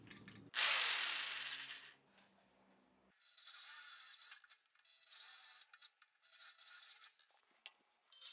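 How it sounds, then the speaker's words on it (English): An electric drill drills mounting holes for an outdoor camera in several separate bursts, each a few seconds long with pauses between, its pitch shifting as the bit bites in. "mark the positions for the 4 holes, and then drill the holes"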